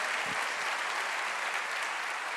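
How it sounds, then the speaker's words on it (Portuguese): A church congregation applauds the Lord during a sermon, a steady dense wash of clapping filling the whole stretch at an even, moderate level with no speech over it. "Pode aplaudir o Senhor?"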